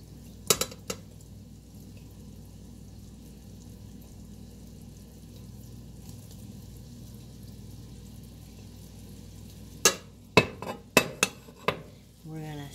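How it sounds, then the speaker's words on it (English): Ham and garlic are stirred in a pot for jambalaya, with a couple of spoon clinks at the start, a quiet stretch, then a quick run of sharp scraping knocks near the end. "We're going to stir this until this is nice and brown, just a tad bit"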